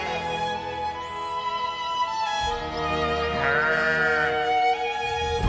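Sierra Nevada bighorn sheep bleat in cold winter mountain terrain during breeding season, a drawn-out wavering bleat rising over steady background ambience, fairly close and clear.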